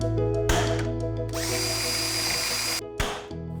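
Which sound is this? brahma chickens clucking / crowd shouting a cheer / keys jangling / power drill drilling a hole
power drill drilling a hole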